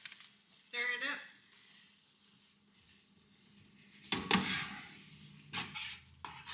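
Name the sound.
stirring cheese into food in a pan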